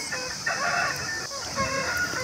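A Tamil Nadu Salem breed rooster crows at a market, a steady, fairly loud call running most of the clip over a constant high background hiss.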